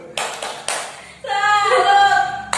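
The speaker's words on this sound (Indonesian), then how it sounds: "Yuk kita tepuk" A crowd of women clapping together at a classroom-style talk, bursts of applause with loud chanted voices joining in, all close and lively.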